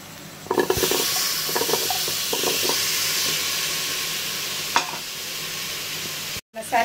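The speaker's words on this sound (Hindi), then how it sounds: "अब मैं इसमें डाल रही हूँ 6 से 7 आलू को अच्छे से छील करके काट करके लिया है, और मसाले भुने हुए मसाले में डालूंगी।" Peeled, chopped potatoes go into roasted spices in a hot pan, setting off a steady close sizzle and hiss with stirring scrapes, a sharper burst near the end, then a brief silence.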